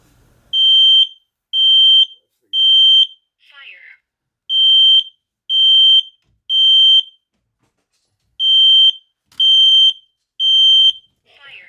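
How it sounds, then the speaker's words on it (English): A smoke alarm sounds in loud groups of three shrill beeps separated by short pauses, with a brief voice between groups. "Is that the alarm? Yeah, the smoke alarm."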